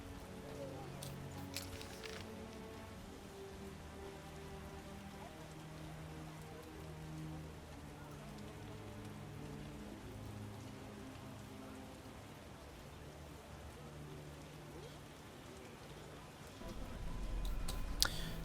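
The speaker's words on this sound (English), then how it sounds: "This really is a torrential downpour, this, isn't it?" Torrential rain pours down in The Witcher video game, a steady, dense hiss of drops drumming on surfaces throughout, with a louder gust or splash rising near the end.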